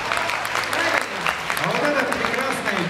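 Audience applause at the opening and awards ceremony of the Golden Turtle 2018 competition, a steady dense clapping that fills the whole stretch, with a voice speaking over it.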